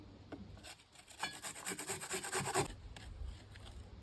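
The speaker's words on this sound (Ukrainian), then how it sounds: "Я люблю потерти сюди цибулину." Steady rhythmic rasping strokes of an onion being grated, building to a louder burst in the middle before easing off, close up with no talking.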